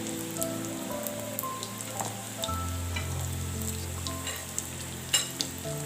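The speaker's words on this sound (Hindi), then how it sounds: "इस तरह से मैं फ्राई करती हूँ" Potato samosas frying in oil in a pan, with a steady close crackle of bubbling oil and a low hum running underneath, plus a few sharper pops and clicks along the way.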